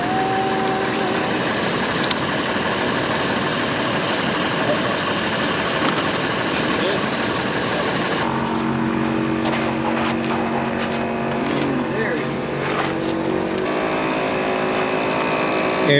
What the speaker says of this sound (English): airing 5 tires at the same time